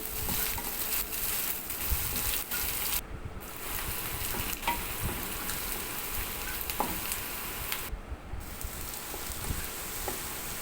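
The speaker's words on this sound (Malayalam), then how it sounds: "ഇഞ്ചി വെളുത്തുള്ളി ചതച്ചിട്ട് കൊടുക്കാം പച്ചമുളക് നന്നായിട്ട് വഴറ്റണം" Crushed ginger, garlic and green chilies sauté in oil for kadala roast, a low steady sizzle with occasional stirring scrapes and clinks, two brief near-silent gaps, no voices.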